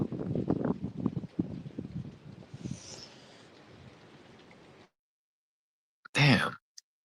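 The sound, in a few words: wind outdoors blowing into microphone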